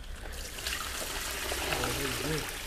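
Water pours steadily into a glass aquarium in a continuous rushing stream, with a low murmur of voices in the background.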